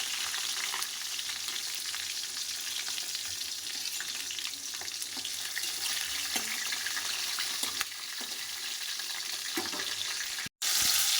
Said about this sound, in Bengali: তেলের উপরে ফোড়ন দিয়ে দিলাম, কাঁচা লঙ্কা, তেজপাতা দিয়ে দিলাম।